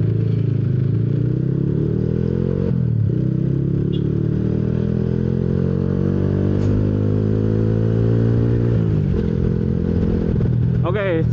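A Yamaha Jupiter MX motorcycle, originally 135cc and bored up to 155cc, runs loud and close with a steady idle and rising revs, while someone talks over the engine.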